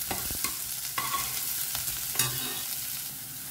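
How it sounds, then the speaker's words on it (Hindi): Chopped onions fry lightly in a pan, a continuous sizzle broken by several distinct scraping stirs of a spatula, close and fairly quiet, with no voices. "मैंने 2 प्याज को ना चॉप कर लिया है। 2 से 3 मिनट के लिए अच्छे से भून लेना है"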